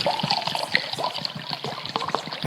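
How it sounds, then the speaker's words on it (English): Wine is poured into a cup at a wedding ceremony, a soft close trickle and splash that runs continuously over a faint busy background. "They are pouring the wine in the cup."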